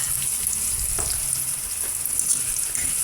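Steady loud sizzling of chicken and garlic frying in a hot pan, a constant hiss with faint stirring clatter underneath, close up.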